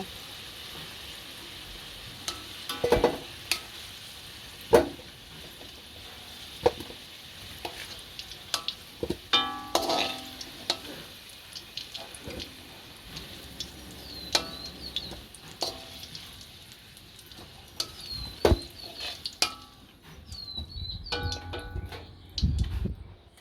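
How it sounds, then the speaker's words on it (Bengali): Potatoes fry in a pan of oil with a continuous crackling sizzle, broken by frequent light ticks and clinks of a spatula against the pan. Later it settles into quieter, sparser popping. "আলু ভাজা হয়ে এসছে, এবার আলুগুলো সব তুলে নেব"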